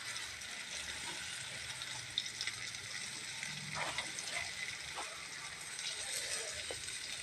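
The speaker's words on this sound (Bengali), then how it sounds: "এবার সবই একসাথে দিয়ে এই ঝিঙে কটা কষে নিলাম।" Ridge gourd frying with chilli powder in a pan, a steady sizzle and crackle with occasional small pops, close and continuous.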